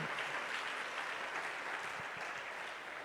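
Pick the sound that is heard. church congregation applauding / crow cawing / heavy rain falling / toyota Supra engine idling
church congregation applauding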